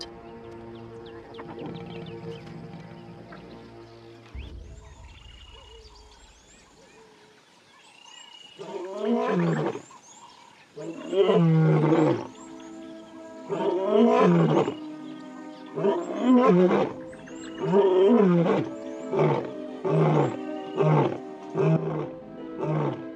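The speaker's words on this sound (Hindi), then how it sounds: "शेरों की ताकत और आत्मविश्वास से भरी दहाड़े गूंजती हैं" Lions roar along a riverbank in South Luangwa National Park, Zambia, a series of deep, rhythmic grunting roars building in loudness and repeating close by for many seconds.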